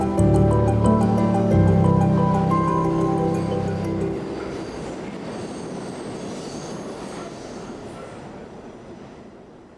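A subway train runs through a tunnel, loud and close, with sharp squealing wheels at first, then a steady rushing rumble that gradually fades.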